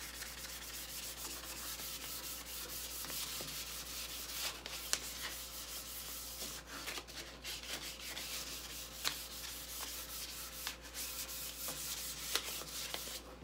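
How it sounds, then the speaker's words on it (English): Sandpaper rubbing along the neck of a Harmony Monterey archtop guitar, a continuous close, even scratchy stroking with slight rhythmic pulses over a low hum. "But this sand's pretty good, and I think we're about there for now."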